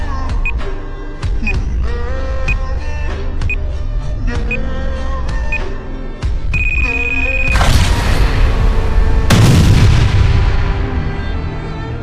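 Bomb explosions blast out in a Sakura School Simulator game scene: one loud broadband boom, then a second heavier blast with a long rumbling tail, after several seconds of chiming game sounds and music.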